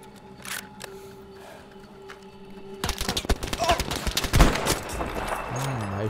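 Gunfire in the World War II shooter Battlefield V, a dense burst of sharp shots beginning midway and continuing in rapid succession, loud and close, with ambient game noise before it and a voice talking over it.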